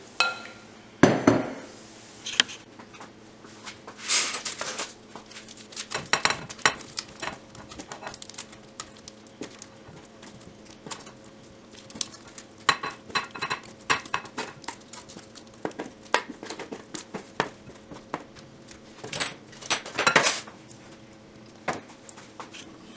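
Cooked carrots and rutabaga being moved into a glass serving bowl: scattered clinks, taps and scrapes of utensils against glass come in irregular bursts over a quiet kitchen background, with no talking.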